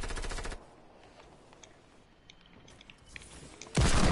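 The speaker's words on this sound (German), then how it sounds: "Hey, ich werd angeschossen." Video game gunfire striking the player, with a loud rapid machine-gun burst at the start, quieter scattered shots and rustling in between, then another loud close burst at the end.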